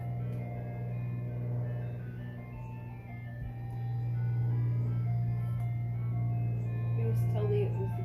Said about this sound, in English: Ice cream truck's gonna come by.